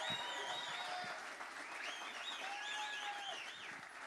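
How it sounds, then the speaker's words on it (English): An audience applauding steadily, a dense wash of clapping with scattered whoops and whistles, sustained throughout without a break. "a big round of applause"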